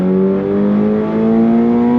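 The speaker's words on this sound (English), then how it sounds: "Second gear, on throttle, here we go." A 2025 Subaru BRZ tS engine revs steadily upward under hard acceleration in second gear toward redline, its droning tone climbing in pitch, loud and close from inside the cabin.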